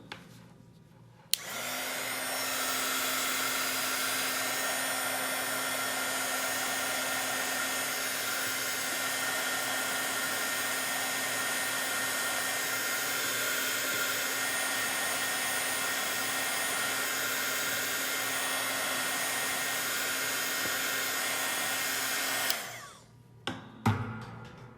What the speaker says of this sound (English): So let's shoot it with heat again and see if we can make it disappear again.